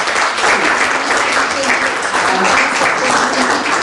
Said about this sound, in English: I want you to start this debate with a big round of applause to Suaad